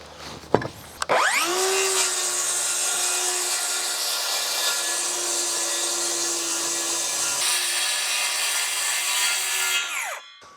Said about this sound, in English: now I'm ready to make my cut